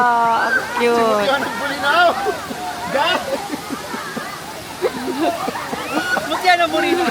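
Water splashes and rushes at Bolinao Falls, a waterfall, as a steady wash under loud, excited voices talking and exclaiming throughout.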